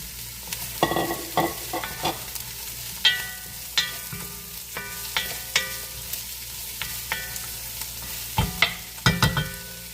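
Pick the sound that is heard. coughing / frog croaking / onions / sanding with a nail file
onions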